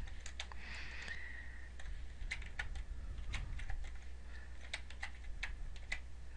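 Fingers tap out entries on a computer keyboard, a quiet, irregular patter of clicks in bursts and pauses over soft background hum, with no talking.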